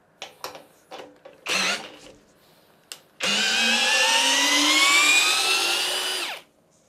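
A Parkside PSBSAP 20-Li cordless drill bores a 12 mm hole, a few short taps and bursts before a loud sustained whine of about three seconds whose pitch slowly drops under load, then cuts off.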